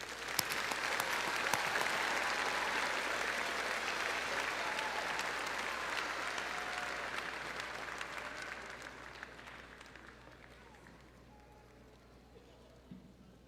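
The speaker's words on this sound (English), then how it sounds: "let's give our graduates a round of applause" At a high school graduation ceremony, a large crowd claps for the graduates, a broad, even roar of applause that holds for several seconds and then gradually tapers off, heard from some distance.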